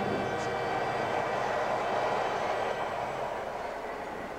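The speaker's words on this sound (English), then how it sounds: "These freight trains coming through all night long, making all that racket" A freight train passing through Bakersfield makes a steady, loud rumbling roar that fills every moment without a break and eases slightly toward the end.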